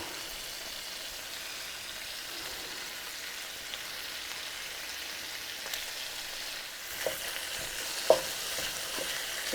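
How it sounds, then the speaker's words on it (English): Ground beef and onions frying in a cast iron skillet give a steady, fairly quiet sizzle with soft stirring scrapes and a few small pops toward the end, with no talking. "I'm just going to cook this ground beef until it's completely browned"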